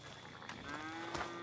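Cattle in the video game Red Dead Redemption 2 give a low, drawn-out moo that swells near the end of the clip, fairly faint against quiet ambient game sound.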